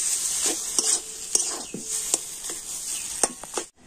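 Potato filling being mixed in a pan for an eggless vegetarian omelette curry, with repeated close scrapes and taps of a spoon against the pan over a bright, continuous hiss, no talking.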